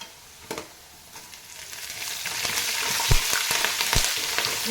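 Curry leaves hitting hot oil in a pan over a lowered flame, starting with a few sharp pops and building into a dense, close crackling splutter, with no talking.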